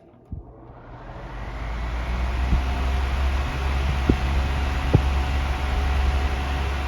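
Tozai Deluxe 16-inch oscillating fan running steadily, a continuous close airy rush with low rumble and a few faint ticks or clicks from the blade area.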